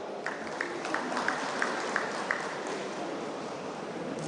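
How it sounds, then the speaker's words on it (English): Audience applause at an engineering college alumni meet award ceremony, fairly faint and steady, with a few sharper claps standing out early on before the clapping thins. "Let's give a big round of applause to honor their accomplishments, everybody"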